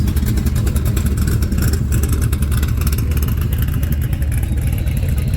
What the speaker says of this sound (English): Man, listen to that engine, my goodness.